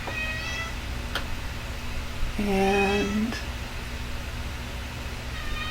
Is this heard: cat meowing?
yes